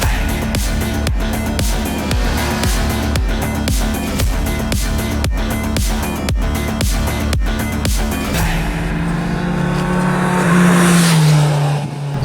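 A 2020 Kawasaki Z900 motorcycle engine roars at high revs with rapid pulsing gear changes and wind rush, then eases into a lower drone as it slows.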